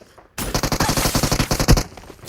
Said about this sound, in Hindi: ये बंदा मेरे पे फायर करता है।